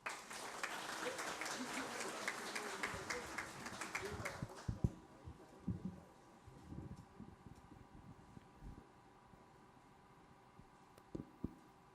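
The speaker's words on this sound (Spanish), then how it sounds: "lo recibimos con un fuerte aplauso" An audience at a book launch applauds to welcome Dr. Edgar Barnitzta, a full round of clapping that fades out after about five seconds, leaving a quiet room with scattered knocks and rustles.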